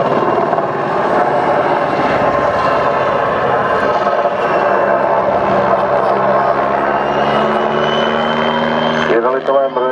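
W-3A Sokol rescue helicopter maneuvering during a search-and-rescue display at an air show, its loud, steady rotor and turbine roar continuous and close, with engine pitch shifting near the end.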